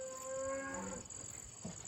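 A single calf moo, a rising tonal bellow lasting about a second close by, then fading into quiet background noise.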